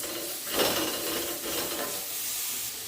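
Chopped tomatoes fry and are stirred in a pan, a soft continuous sizzle with scraping stir strokes close by and no talk.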